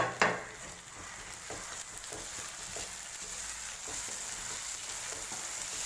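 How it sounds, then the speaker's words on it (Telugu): Ginger paste fries in a pan with a steady, close sizzle and a sharp hiss at the start, and faint scrapes of stirring run underneath with no voices. "అల్లం పేస్ట్ వేసినాక 5 నిమిషాలు ఇలా ఫ్రై చేసుకోవాలి మనం"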